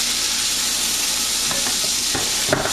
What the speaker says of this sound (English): you can hear that start to sizzle